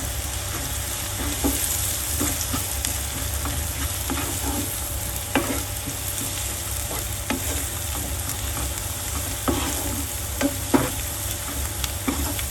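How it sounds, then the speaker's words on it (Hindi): Chili and turmeric are stirred into an egg masala frying in a pan, a steady close sizzle with regular scraping strokes of a spoon and occasional knocks, no talking. "मिर्च, हल्दी, इसको करते हैं मिक्स।"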